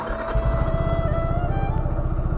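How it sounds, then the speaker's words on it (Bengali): A motorcycle, out of use for a long time during the rainy season and low on fuel, makes a cold start. The engine catches and runs loudly up close with a rapid, lumpy, steady throb. "চলো বাইকটা করে দিই কোল্ড স্টার্ট"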